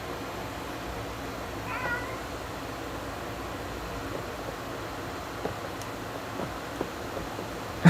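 A domestic cat meows briefly at close range, one of two cats sitting on a person's legs, over a steady soft hiss with a few small clicks and no talk.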